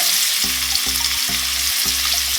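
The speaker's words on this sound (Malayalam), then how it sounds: "ഇനിയിപ്പോൾ എണ്ണ ചൂടായി കഴിഞ്ഞാൽ അതിലേക്ക് നമുക്ക് സവാള ഇടാം" Onions frying in hot oil give a steady, bright sizzle throughout, with a low droning hum that pulses on and off underneath in a regular rhythm.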